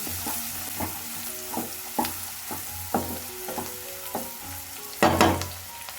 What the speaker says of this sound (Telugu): ఇప్పుడు ఇందులోకి ఒక రెమ్మ కరివేపాకు కూడా వేసుకొని మిక్స్ చేసుకోవాలి.